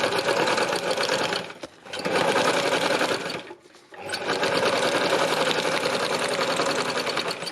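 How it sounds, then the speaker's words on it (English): A sewing machine runs fast while free-machine embroidering over lace, a dense, loud, continuous whirring rattle that stops briefly twice before running on steadily. "Obviously you could be stitching this down with your proper foot on, but I think I like it with free machine embroidery"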